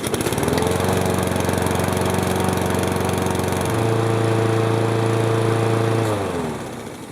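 A carbureted car engine runs steadily while warming up, a loud, continuous close drone with a slight shift in pitch midway, fading a little at the end with no voices.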